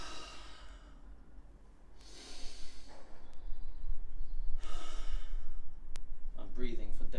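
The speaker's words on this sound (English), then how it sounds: "I'm breathing for demonstration purposes here." During a Pilates class, an instructor takes loud, exaggerated breaths to demonstrate: two long, airy exhalations a couple of seconds apart, close to the microphone, followed by a quieter breath.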